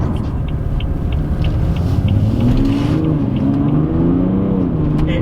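BMW F30 335d xDrive diesel saloon, lowered, accelerating hard down a road: a continuous loud engine drone with rising harmonics as it pulls through the revs, steady and close throughout.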